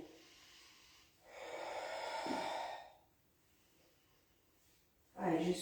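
Long, audible breath out during a Pilates exercise, a close airy exhale lasting nearly two seconds after a quieter breath, then a short sharp exhale at the end, with no talking.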